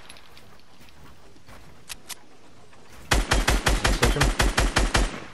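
SMG fire in Fortnite, a few faint isolated shots followed by a loud rapid burst of about a dozen evenly spaced rounds, with a brief spoken line from a player.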